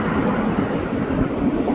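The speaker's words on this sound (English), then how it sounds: "Bunch of center beam cars following along after the boxcar from the CN train." A CN freight train rolls past with a boxcar followed by a string of center beam cars, giving a steady, continuous low rumble and rail noise at moderate loudness without pause.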